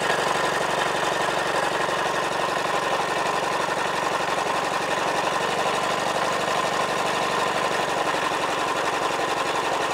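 A 1995 Sea-Doo Sportster jet boat's 657X two-stroke engine cranks over during a compression test, a steady, rapid, even chugging that runs loud and unbroken throughout.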